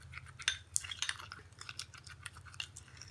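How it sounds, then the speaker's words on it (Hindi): Multani clay face pack being mixed in a small bowl, faint close wet squelching and light scraping clicks in quick irregular strokes, no talk. "ये देखिए, अच्छा से मिक्स कर लेंगे।"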